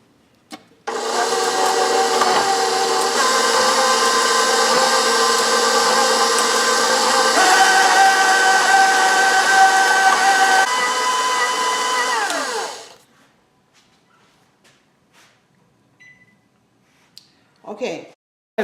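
An electric hand mixer beats butter, egg and sugar batter for a coconut pineapple pound cake, a loud steady whirring hum for about twelve seconds, then shuts off, followed by faint clinks and brief clatter.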